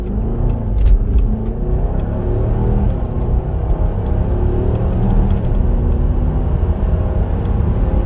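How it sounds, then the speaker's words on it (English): A Mercedes ML W166 on a test drive after fuel pump and pressure sensor replacement gives a steady low engine and road rumble from inside the cabin, continuous and even throughout with no talk. "We are on our test drive."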